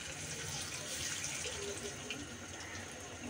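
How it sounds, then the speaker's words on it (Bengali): Slices of pointed gourd fry in hot soybean oil with a steady, close, hissing sizzle that continues without a break. "তেলটা গরম হয়ে আসছে, এবার আমি পটলগুলোকে দিয়ে দিচ্ছি।"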